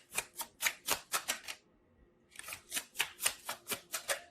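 Close, crisp riffling of tarot cards comes in two runs of quick rhythmic snaps, about six then eight, split by a brief quiet gap.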